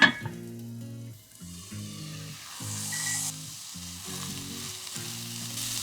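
Onions fry in a well-heated frying pan, giving a soft, continuous sizzle beneath a repeating tonal hum that comes in regular bursts, with a brief clink at the start.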